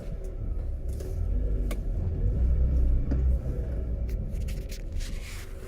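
A 1988 Lada Niva 4x4 driving, giving a steady low engine rumble and road noise from inside the vehicle, with a few light knocks and rattles and no talk.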